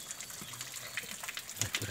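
Water gushes steadily from the spout of the Cikahuripan spring on Mount Sangga Buana, a constant faint splashing wash that runs throughout.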